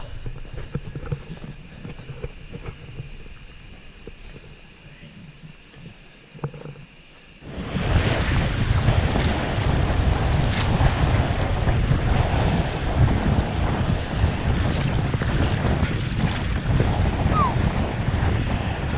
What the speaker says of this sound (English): And the wind's picked up a little too, a short while.